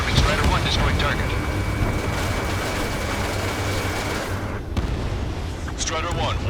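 A warship explodes and sinks in the Ace Combat 7 video game: a loud, sustained rumbling blast with heavy low-end roar that lasts several seconds. A game radio voice talks over it near the end.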